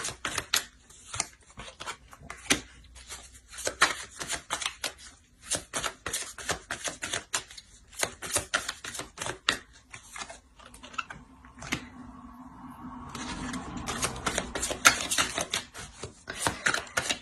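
Tarot cards laid out and added to a spread on a table, heard as close, quiet, rapid taps and light slaps in irregular bursts, with a softer sliding patch near the end and no talking.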